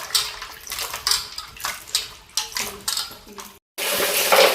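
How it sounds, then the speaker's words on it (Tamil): Goat trotters are rinsed by hand in a bowl of water, with rhythmic sloshing and splashing and light knocks against the bowl, ending in a steadier rush of running water. "நம்ம வந்து ஒரு 4-5 வாட்டி அலசிட்டு மஞ்சள் போட்டு 2 வாட்டி அலசி எடுத்துப்போம்"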